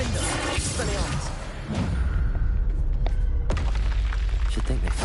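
A Confringo spell explosion in a Harry Potter video game, a heavy booming blast with rumbling low end and shattering, whooshing debris amid dense game sound, with a voice speaking in the mix.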